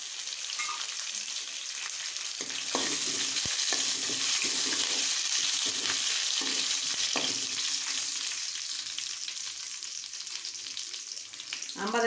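Curry leaves frying in hot oil for spicy Tamil puffed-rice snack, a steady loud broadband sizzle throughout with occasional crackles and spatter pops, close and continuous with no talking.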